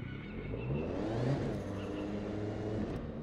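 An Audi RS3 Sportback engine in The Crew 2 hums and revs softly at a steady, fairly quiet level, rising slightly in pitch midway, like a sports car cruising in a game.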